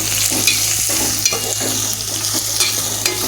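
Sliced onions and chillies fry with marinated chicken in a pan for curry, a loud close sizzle with the scrape and clatter of stirring throughout.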